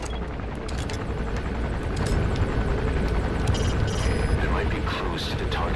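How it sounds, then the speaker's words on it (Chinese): Helicopter in the stealth action game Metal Gear Solid V: The Phantom Pain, a steady dense rotor and engine rumble that stays loud throughout, mixed with game ambience and low booming. "我可以把直升机打下来了。"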